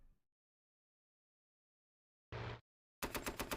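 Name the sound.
fighter planes strafing with machine guns in Panzer Tactics HD video game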